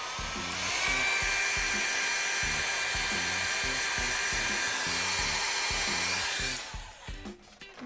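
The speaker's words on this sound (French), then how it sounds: "je vais vous montrer tout de suite avec mon sèche-cheveux ce que ça donne" A hair dryer blows hot air onto Dance Legend thermochromic nail polish, a steady loud whoosh with a low pulsing hum that runs for about six and a half seconds, then cuts off and leaves faint handling noise.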